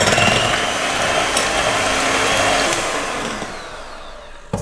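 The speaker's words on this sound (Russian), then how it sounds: "Добавляю маленькую щепотку соли для баланса вкуса и взбиваю до пышной пены." Eggs with a small pinch of salt being whisked into a fluffy foam for an apple charlotte batter: a loud, steady whirring drone that continues throughout and eases off slightly near the end.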